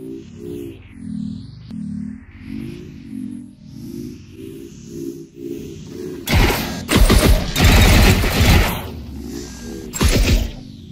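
Bursts of SMG gunfire in the Hexion VR shooter game, loud and rapid from about six seconds in, after a stretch of droning music and mechanical sounds.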